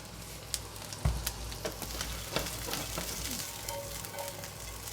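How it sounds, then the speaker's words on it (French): Green asparagus sautéing in a frying pan gives a steady close sizzle with occasional soft knocks and stirring scrapes, and no one speaks. "vous les faites revenir gentiment comme ça à la poêle"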